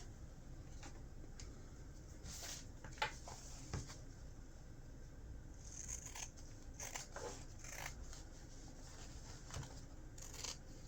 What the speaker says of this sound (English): now we're going to trim these seam allowances down to about 1/8 of an inch.